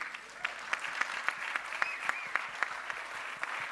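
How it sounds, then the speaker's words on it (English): Conference audience claps in sustained applause, sharp individual claps standing out over a steady crowd wash, moderately distant and uninterrupted. "Please, huge round of applause."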